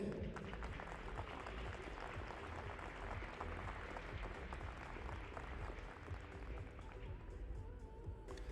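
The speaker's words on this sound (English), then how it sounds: "your applause for Turkey's Suzanne Cevic" Faint, distant applause from spectators at a women's 10m air rifle para shooting event in Hamar, a steady patter of clapping that continues for several seconds.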